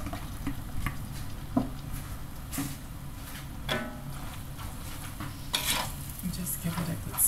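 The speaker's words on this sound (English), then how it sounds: "Just give it a good stir." Vegetable curry with cut steak gets stirred in a frying pan, a soft continuous sizzle broken by scrapes and knocks of the spoon against the pan, fairly quiet and close.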